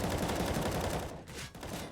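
Rapid, dense gunfire fills a Counter-Strike match on the Nuke map between FURIA and Sharks at a 2019 Americas Minor, with overlapping rifle bursts that hold steady, briefly dip, then resume loudly.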